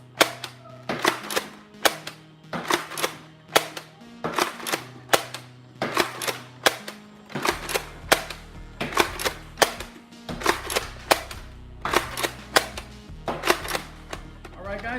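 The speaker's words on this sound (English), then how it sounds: "if I fire both sets of darts, you'll get an honest opinion of how they fire" A magazine-fed Lumitron springer Nerf blaster fires regular Nerf darts in a steady series of sharp, close snaps, each shot followed by the clack of priming, with a low musical backing underneath.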